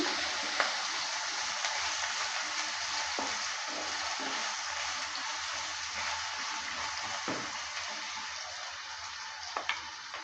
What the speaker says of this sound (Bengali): আলুটা দেওয়ার পর ভালো করে নেড়ে চেড়ে নিচ্ছি